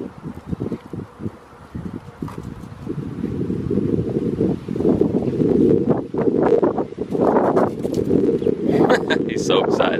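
Gusty wind buffeting the microphone with low rumbling roar, steady throughout, with some rustling and faint sounds of movement over it.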